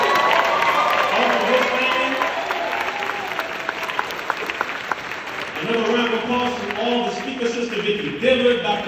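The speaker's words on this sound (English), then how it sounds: "let us give a round of applause" Audience applause fills an expo hall, a dense steady patter of many hands clapping that runs throughout, with crowd noise and a brief swell of cheering near the end.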